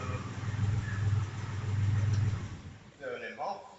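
A Porsche engine runs at a steady low idle, close and even, before it is shut off and the rumble fades away. A voice is heard speaking near the end.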